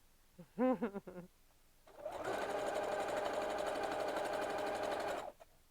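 A few soft bird coos come first, then a sewing machine runs in one steady burst of about three seconds, stitching fabric with a fast even whir before stopping.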